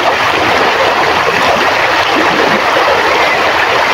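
A river in the Philippines, wide and swollen, rushes steadily with a continuous, loud, broadband wash of flowing water up close, without pause for the full stretch and no voices over it.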